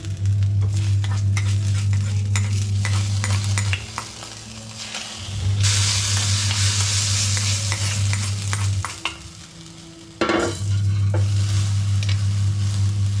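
Steady loud sizzling of a frying tempering in a pan for Malabar spinach thoran, with scraping stirring clicks and a brief hiss, continuing with only short pauses.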